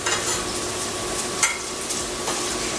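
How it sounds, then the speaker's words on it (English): A spoon stirring fresh dill and chives into vegan sour cream, a soft continuous scraping and mixing close up with a faint steady hum in the background and no talking. "I'm going to mix that into the sour cream"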